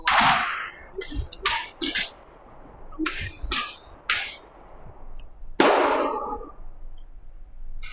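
Shots from a Palmetto State Armory AR-V 9mm rifle, a custom PSA build, fired one at a time as sharp, loud cracks with irregular gaps, some quick pairs, and ringing decay between them.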